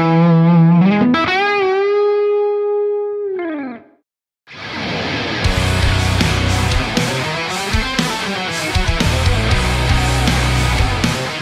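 Distorted electric guitar through a VX Kraken MKII amp turned all the way up plays a sustained, bending bluesy lead line, pauses briefly, then launches into busy, driven riffing with thick chords, loud and continuous.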